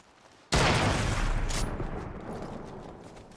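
A sudden close burst of rapid gunfire in the video game Fortnite erupts after a brief quiet moment, then rolls on as a dense, fading barrage of shots.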